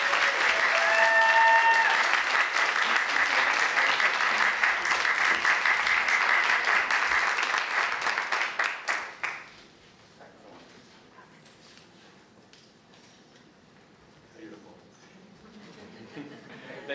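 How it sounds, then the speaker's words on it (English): Loud, sustained applause from a crowd at a university graduate research presentation event for about nine seconds, then it dies away into quiet room murmur with faint scattered sounds. "a round of applause, please"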